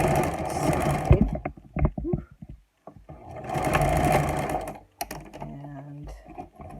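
A sewing machine stitches the side of a fabric face mask in two quick bursts of rapid mechanical chatter, with short handling clicks and pauses between them and no talk.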